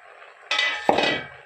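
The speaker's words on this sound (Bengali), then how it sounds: "ঢাকা খুলে দেখে নিচ্ছি।" A metal lid lifted off a pot of lentils after twenty minutes of boiling, with a bright clatter and a clink as it comes free, followed by a brief ringing scrape, close and fairly loud.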